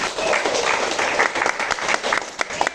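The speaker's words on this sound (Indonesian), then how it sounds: "tepuk tangan dulu dong buat kalian" An audience at an educational talk on technology for young people claps loudly and continuously, a close, dense round of applause from many hands.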